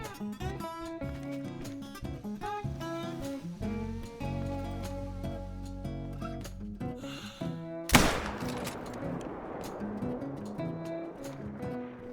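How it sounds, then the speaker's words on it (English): A single rifle shot fired at a coyote in theHunter: Call of the Wild, a loud sharp crack cutting through layered background music, followed by a brief echoing decay. "So I switched back to the Hyperion scope, laid down, and took the shot."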